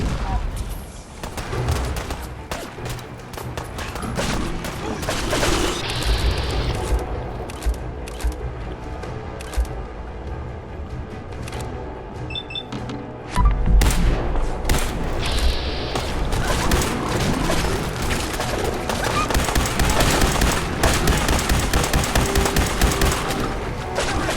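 Rapid gunfire rattles through a firefight against scavengers in Fallout 4, with bursts of automatic shots, single cracks and weapon mechanics layered under shouted voices, loud and close throughout the long battle.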